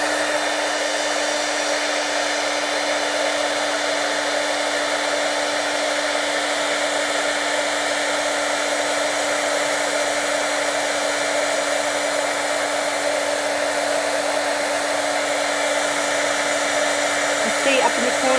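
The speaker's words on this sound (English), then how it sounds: "I'm going to use the heat gun." A heat gun used for rubber-stamp embossing blows steadily for a long stretch, a loud constant whooshing roar with a fixed mechanical hum, with no talking.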